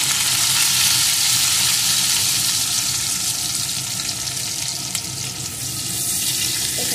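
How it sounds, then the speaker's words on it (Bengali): Chopped onion sizzles in hot oil in a pan for stuffed pointed gourd dorma, a loud, steady frying hiss that runs throughout with faint stirring. "তেলটা গরম হয়ে গেছে, এর মধ্যে দিয়ে দিলাম একটা পেঁয়াজ কুচি"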